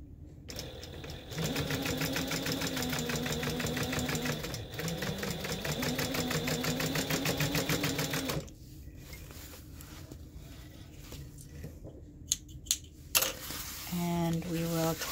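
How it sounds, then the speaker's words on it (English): A sewing machine stitches the ends of cushion piping together into a loop, a steady rapid mechanical whir that runs for several seconds, stops, then gives way to quieter handling noises and short bursts of stitching. "I'm just gonna go ahead and sew these ends together to create that loop"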